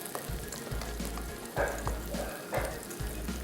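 Onions frying in a pan during a Hindi-language home cooking segment for daal kabab, giving a steady, close sizzle with a few louder crackling bursts and no talk.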